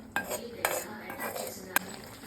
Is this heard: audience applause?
no